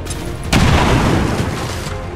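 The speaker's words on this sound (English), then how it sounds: "Bombs away!" A bomb blast in the video game XCOM 2 erupts after a short quiet lead-in, hitting as a loud, heavy boom and then rolling on as a dense, rumbling roar that fades only slightly by the end.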